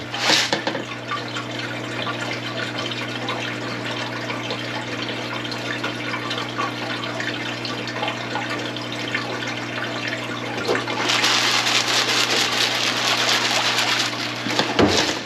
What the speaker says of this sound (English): Just got the water turned on.